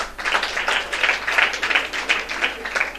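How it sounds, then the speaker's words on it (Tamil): An audience at a temple consecration ceremony's spiritual talk claps in quick, uneven bursts, a moderate round of applause that keeps going evenly throughout. "அந்த பொண்ணுக்கு ஒரு கைத்தட்டு கொடுங்க."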